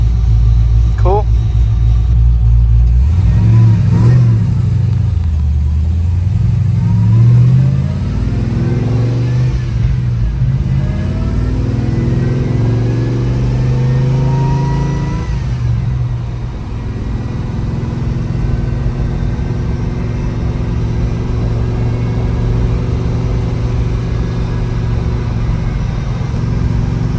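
A supercharged LS V8 swapped into a C10 truck rumbles and revs, with rising and falling pitch sweeps over a steady loud low drone, no one speaking.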